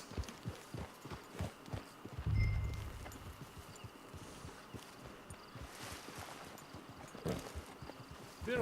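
Horse hooves clip-clop steadily in Red Dead Online as a horse walks up to a camp, a rhythmic run of close, moderate hoofbeats with light ambient texture and no talking.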